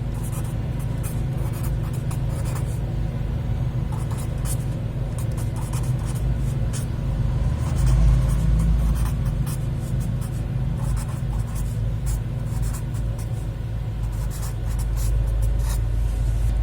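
Pen strokes scratch steadily on paper as a formula is written out, a continuous close scribbling over a low background hum, with no one speaking.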